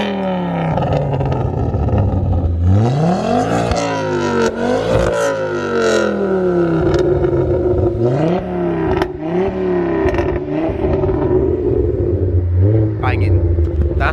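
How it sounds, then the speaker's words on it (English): Ford Focus Mark III ST five-cylinder engine revved repeatedly, loud and close, with rising and falling sweeps and sharp bangs and crackles between revs. "That's the 5-pot sound everyone loves"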